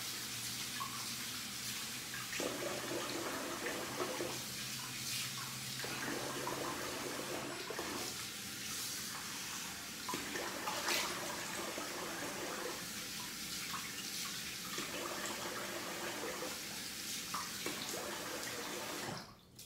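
Tap water runs steadily into a sink as a double-edge safety razor is rinsed under it after shaving, a continuous splashing stream with small shifts as the blade moves through the flow, no talking.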